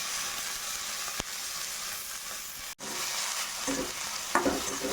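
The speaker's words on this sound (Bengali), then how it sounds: "পেঁয়াজগুলো একটু ভেজে নিতে হবে" Onions sizzle and fry steadily in a hot pan with bay leaf and dried red chili, with a few soft stirring scrapes and clicks.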